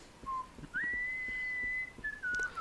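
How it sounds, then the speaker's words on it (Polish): A lone whistled tune in a few sustained, gliding pitches during a session of the video game Serious Sam: The First Encounter, a short note followed by a long steady tone and a final falling phrase, clear and fairly close. "Te psychiczne gwizdanie."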